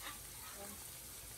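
Red snapper fish frying in a pan, giving a steady, even sizzle that stays close and constant throughout, with no talk over it.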